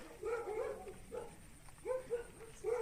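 Dogs barking on a Thai farm, a run of short, sharp barks with pauses in between, moderately near and clear, with no talk over them.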